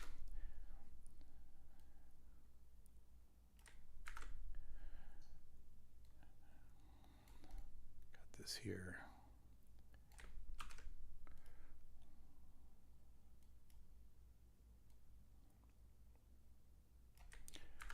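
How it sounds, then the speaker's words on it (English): Typing on a computer keyboard, with scattered soft clicks and short bursts of keystrokes spread over a long quiet stretch, faint and close, with a brief low spoken remark partway through. "I'm typing on my other screen."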